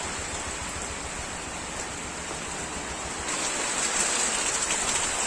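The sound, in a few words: heavy rain outside at night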